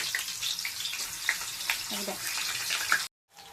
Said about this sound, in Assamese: এয়া মই কলখিনি দি দিছো আৰু কেৰাহীত দেখিছে আপোনালোকে